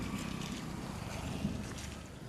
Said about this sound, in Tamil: அப்பா பயங்கரமாக இருக்குங்க காற்று